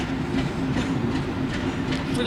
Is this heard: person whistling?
no